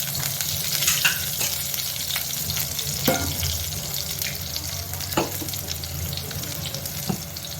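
Bay leaf and green chili fry in hot oil in a pan, giving a steady close sizzle with occasional clinks of a stirring spoon throughout.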